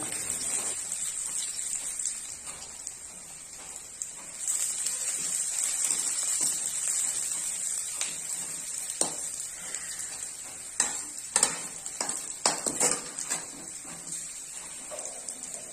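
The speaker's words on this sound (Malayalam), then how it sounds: "ഇടയ്ക്കിടയ്ക്ക് അതിന് ഇളക്കി കൊടുക്കുക" Rava uppumavu base of ginger, green chilli, curry leaves and onion cooking in a pan, a soft steady sizzle with intermittent scraping stirs and a few sharper clatters near the end, fairly quiet and without talk.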